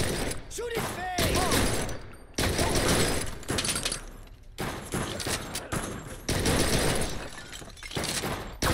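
Gunfire in Blue Estate, with rapid bursts of loud shots in several blocks separated by brief gaps, mixed with shattering and breaking impacts, and talk in between.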